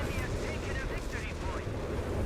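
Artillery barrage pounding a house in Company of Heroes 3, a real-time strategy game: a dense, continuous roar of overlapping blasts and rumbling impacts that fills the whole stretch at steady loudness.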